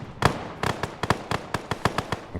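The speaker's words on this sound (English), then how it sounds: "Okay, I hear gunfire." Gunfire in the Fallout 4 video game: a string of sharp, irregular cracking shots from a moderate distance, some in quick pairs, with no talking.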